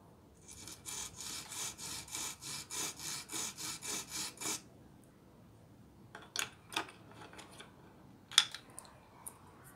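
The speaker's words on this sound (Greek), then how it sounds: "Εδώ βλέπουμε ένα πριόνι." A miniature hand saw cuts wood on a tiny woodworking bench, about ten quick even rasping strokes up close, then a pause followed by a few scattered scrapes and a sharp tap.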